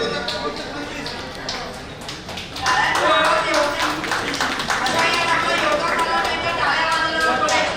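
A crowd at a birthday gathering claps in a group round. The clapping swells loud and dense partway through and then continues steadily. Chatter and talk run alongside the applause.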